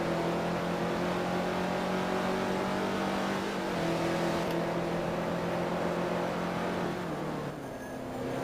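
Flying Lizard Porsche and Corvette GT2 race cars at the Sebring hairpin, a loud steady engine drone with shifting pitch as they brake and power through the turn, no talk.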